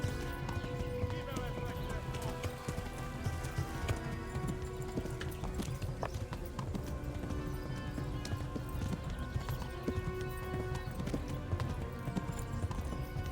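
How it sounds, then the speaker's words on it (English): Rapid clip-clop of a galloping horse in the video game Kingdom Come: Deliverance runs continuously, with occasional horse whinnies and a voice speaking over the rhythmic pounding. "Go, horse, go!"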